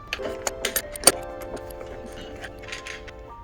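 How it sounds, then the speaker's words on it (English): Close, irregular metallic clicks and clinks as a nut is worked off the rear wheel hub of a Lacroix electric skateboard, with a few sharper taps among quieter rattles. "We need to remove the nut."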